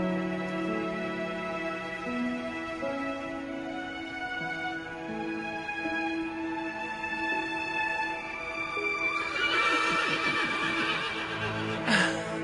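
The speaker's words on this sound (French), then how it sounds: "Il y a un cheval qui vient d'arriver au refuge." A horse newly arrived at a refuge neighs in long repeated whinnies over a quiet musical background, and a sharper, louder call comes near the end.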